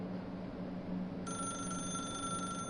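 A telephone rings in The Stanley Parable Ultra Deluxe, a bright electronic bell tone cutting in partway through over a steady low background hum, continuing unbroken without any voices.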